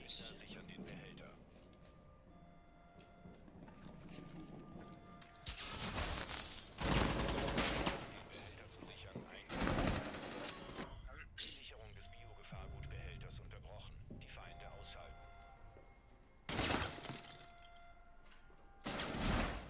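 Gunfire from Rainbow Six Siege played on PS4 comes in loud, sharp rapid bursts and single shots between quieter stretches, with voices talking over the game.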